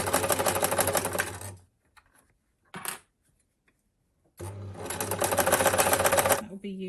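A sewing machine stitches a fabric hanging loop on a scrap-fabric heart. There are two loud, close bursts of fast rhythmic stitching, each lasting about two seconds, with near silence and a brief clatter between them.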